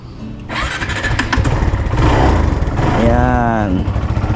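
A motorcycle engine starts on push button and settles into a steady mid-pitched idle, loud and close, its throb rising and wavering near the end.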